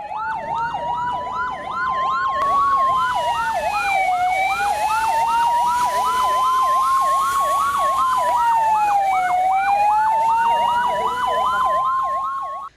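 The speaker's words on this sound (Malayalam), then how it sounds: "സൈറൺ മുഴക്കി പോലീസ് വാഹനങ്ങളും ആംബുലൻസും ഫയർഫോഴ്സും പുതുപ്പള്ളി തെരുവിലേക്ക്." Wailing emergency sirens of police vehicles, ambulances and fire engines, loud and close, cycling rapidly up and down while a second siren tone rises and falls more slowly beneath them.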